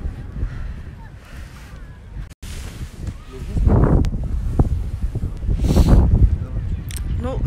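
Cold wind in a German village buffets the microphone in low rumbling gusts, swelling louder partway through, with a brief dropout near the middle.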